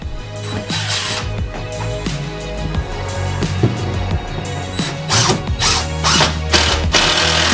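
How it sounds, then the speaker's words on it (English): A screwdriver drives screws while solar panels are installed on an RV, with repeated clicking and whirring bursts up close mixed with handling clatter. "So I need a driver. A screwdriver."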